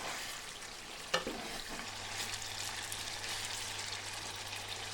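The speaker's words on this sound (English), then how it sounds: "Increase the heat to high and fry continuously, keeping the meat moving so it doesn't catch and burn at the bottom" Mutton fries in thick, dry masala over high heat for bhuna gosht, a soft continuous sizzle with one sharp knock of a spoon early on and a low steady hum underneath.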